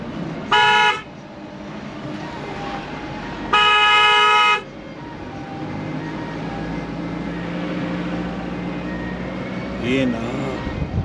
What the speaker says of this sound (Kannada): ಹಾರನ್ ಮಾಡೋದು.